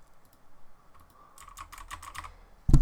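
Quick, light keystrokes tap on a computer keyboard in a short run of clicks, with a louder knock at the very end.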